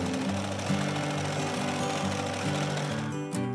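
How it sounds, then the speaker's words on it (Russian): A sewing machine runs a fast, steady stitch along the finishing seam of a dog jumpsuit, loud and continuous with a rapid mechanical rhythm and a brief pause near the end. "Выворачиваем, прокладываем отделочную строчку."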